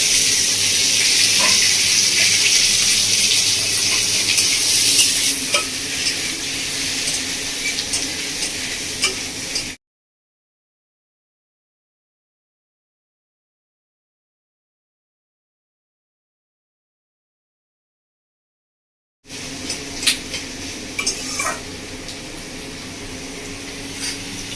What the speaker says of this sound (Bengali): এবার দিয়ে দিচ্ছি পেঁয়াজ আর টমেটো কুচি।